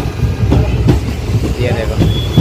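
An Indian Railways passenger train runs along the track on a rainy day, giving a steady low rumble with rhythmic wheel clatter repeating about every half second, heard from inside a coach.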